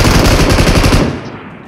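Rapid automatic gunfire in the mobile battle royale game BGMI, a dense burst of loud close shots for about a second that then cuts off and fades into quiet.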